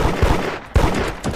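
Gunfire in the Roblox game Da Hood: loud close shots fired in quick bursts, with sharp repeated cracks over a dense, noisy game background.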